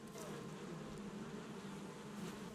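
A constant, close hum of bees around hives by a house in the Valheim video game, with the droning filling the whole short stretch at steady loudness and no talking.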